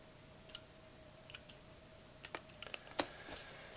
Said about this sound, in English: Press it until you hear a click or until you see the screen